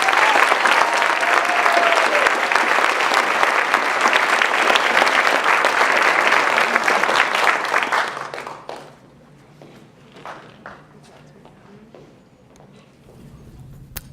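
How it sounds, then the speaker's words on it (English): A large crowd applauds loudly and steadily for graduates at a secondary school awards ceremony for several seconds, then the clapping fades away to quiet room noise. "a big round of applause for all of our graduates"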